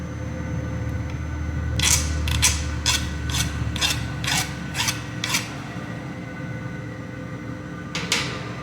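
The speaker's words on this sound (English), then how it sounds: "The 4023 allows the file to cut easily, showing it has remained relatively soft." A hand file cuts 4023 steel after heat treatment in about eight steady, evenly spaced rasping strokes, then a pause and one final stroke, all over a constant loud workshop hum.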